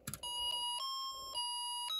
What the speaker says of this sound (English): the happy birthday song plays